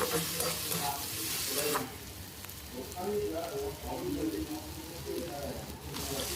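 Four green chillies drop into hot oil with fried ginger and garlic in a pan for Bengali-style katla fish kalia, bursting into a loud, close sizzle that settles into a steady crackle under faint background voices.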